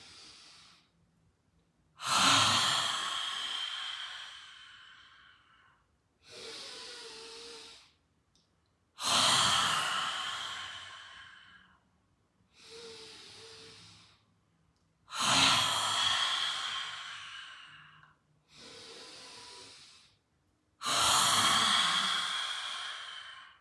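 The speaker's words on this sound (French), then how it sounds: "on rugit comme un lion ou comme une lionne" Forceful breathy exhalations of the yoga lion's breath, a roaring huff from an open mouth with tongue out, repeated about five times at regular intervals, each separated by quiet inhalations, close and prominent.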